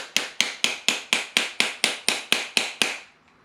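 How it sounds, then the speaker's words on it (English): A hammer strikes a spoon ring on a mandrel socket in a steady run of ten sharp, ringing metallic blows at an even pace, close and clear, the last one fading out into quiet. "Hammer down onto your little mandrel piece here, socket. Hammer your way around."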